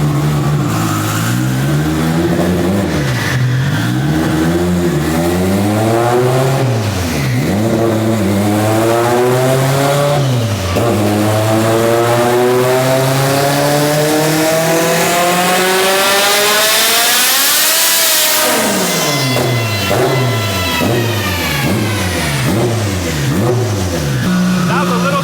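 A 1200hp all-wheel-drive Honda Civic EG with a turbocharged K-Series engine screams through repeated dyno pulls, revs rising and falling, then climbing into a long, howling full-boost run before letting off. People talk over the roar.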